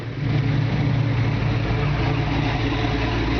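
A 1971 Ford Torino's 460 V8 idles steadily and close by, a continuous deep, rumbling engine drone that holds an even level throughout with no voices over it.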